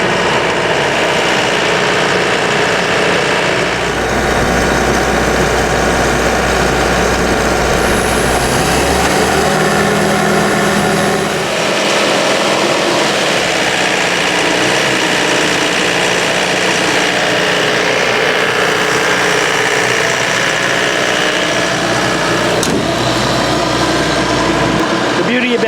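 A PD250 diesel compressor engine runs loud and steady close by, a constant droning roar that holds throughout with a slight shift in tone partway through.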